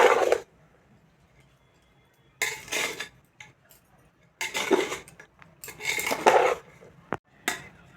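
Rice with cashews and raisins being stirred in a pan over low gas for jeera fried rice, bursts of scraping and clinking from a spoon against the pan separated by short quiet gaps.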